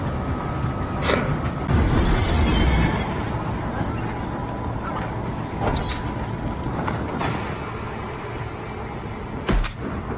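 A diesel train in the video game Voidtrain rumbles steadily along with rattling clanks, a brief high squeal, and intermittent knocks and thumps.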